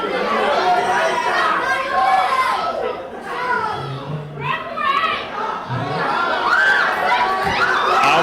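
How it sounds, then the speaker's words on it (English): Wrestling fans at an ICW indoor show for Val Venis with The Iron Sheik versus Maximus Sex Power make a loud, sustained crowd roar of jeers and shouting voices, steady throughout with swells and dips. "the crowd is utterly disgusted right now, and they're letting him know it"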